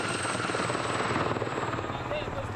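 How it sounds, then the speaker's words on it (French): Military helicopters flying overhead during a French Foreign Legion operation against jihadists in the Sahel, a loud continuous rotor roar throughout. "Il y a aussi des hélicoptères"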